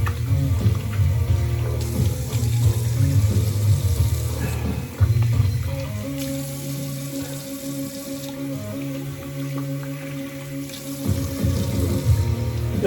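Tap water runs steadily into a sink while someone rinses off after a shave with a stainless steel Karve safety razor, a continuous close splashing wash with a few shifts in flow and no talking.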